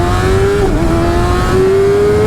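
Kawasaki ZX6R motorcycle fitted with a LeoVince LV One EVO exhaust launching hard, a loud, close, continuous engine roar whose pitch rises steadily with a brief dip at a gear change.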